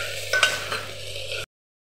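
Pumpkin and potato frying with salt and turmeric, stirred in the pan: a short burst of sizzling with a couple of scraping stirs, then it cuts off abruptly into silence.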